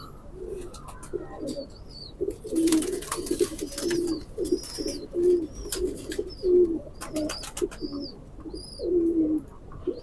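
A male teddy pigeon cooing: repeated low, throaty rolling coos in a steady rhythm, close and clear, with faint chirps from other birds and some clattering in the background.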